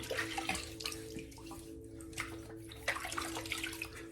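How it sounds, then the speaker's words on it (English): Water shaken out of a wet shaving brush and lather bowl, irregular splashing drips and flicks close by, moderately quiet with a steady low hum underneath. "I'm gonna shake the water out of the brush, out of the bowl"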